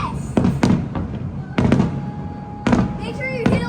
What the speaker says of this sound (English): They're just fireworks, buddy.